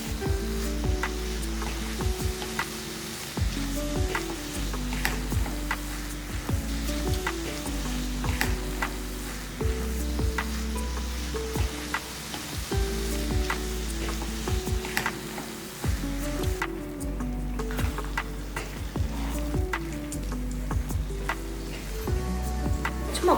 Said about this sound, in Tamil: இதை ஒரு 5 நிமிஷத்துக்கு இந்த மாதிரியே நம்ம வேக வச்சிடணும்.